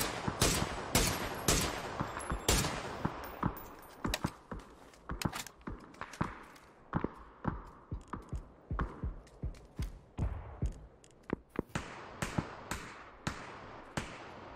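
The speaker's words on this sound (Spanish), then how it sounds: "Hay un loco que le voy pegando 4 tiros y no cae." Rapid bursts of gunfire in a video game, sharp repeated shots in uneven volleys with short single cracks between, steady and close throughout with no talking.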